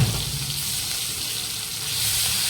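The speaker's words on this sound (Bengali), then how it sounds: "চিংড়ি মাছটা ভালো করে ভেজে" Shrimp fry in hot oil with bitter gourd and potato, producing a steady, close, hissing sizzle that holds evenly from start to finish, with no speech.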